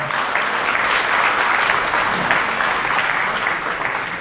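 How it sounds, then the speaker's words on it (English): A wedding reception crowd gives sustained, dense applause for the bride Kavina's father, steady and loud throughout with no clear voices over it. "Please, another round of applause for Kavina's dad"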